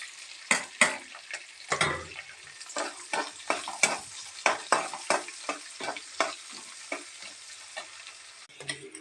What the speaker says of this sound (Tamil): பச்சை மிளகாய், கருவேப்பிலை, நம்ம வெங்காயம் ஆட் பண்ணிக்கலாம்